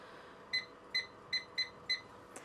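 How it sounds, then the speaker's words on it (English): A kitchen timer is set for five minutes while baking a birthday cake, five short, evenly spaced electronic beeps close by in a quiet kitchen, ending with a faint tap. "I'm just going to set a timer for 5 minutes."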